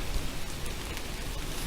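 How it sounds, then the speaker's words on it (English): Light rain falling steadily outdoors, a soft even hiss of drops with no talk over it. "Now we're getting a little bit of rain"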